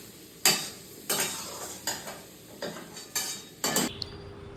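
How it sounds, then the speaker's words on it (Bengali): Potatoes being stir-fried in a pan, with six sharp scraping stirs of a utensil against the pan at a steady pace over a faint background sizzle, close and fairly quiet. "আলুটা কষা হয়ে গেছে।"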